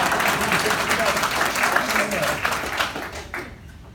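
A graduation audience applauding, a dense wash of clapping from a crowd that holds steady and then tapers toward the end, with a voice talking over it.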